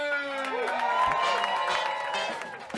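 A studio audience claps and cheers for comedian Jim Norton, a steady wash of applause and whoops with voices mixed in throughout.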